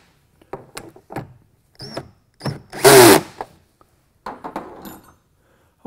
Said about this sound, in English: I start all of the bolts before I tighten any down